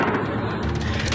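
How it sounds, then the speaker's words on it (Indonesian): Israeli gunfire strikes a residential area in southern Lebanon, a dense, rumbling burst of shots heard from a distance, continuous and booming through the whole short stretch. "rentetan tembakan pun diluncurkan Zionis Israel ke permukiman warga."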